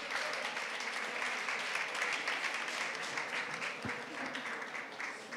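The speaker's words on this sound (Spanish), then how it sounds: "Un fuerte aplauso, muchas gracias" Audience applause at a cycling talk event, a dense, even patter of many hands that sounds faint and distant and holds steady for several seconds.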